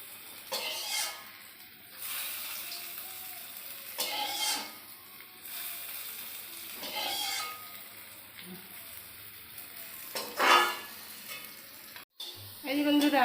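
Potatoes frying in hot oil in a home kitchen, with a steady sizzle and occasional stirring and clinks of a pan and utensils, heard close with no talk.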